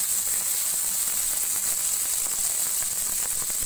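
Small cubes of chicken frying in a pan, a continuous bright sizzle and crackle that stays steady and fairly loud from start to finish with no talking.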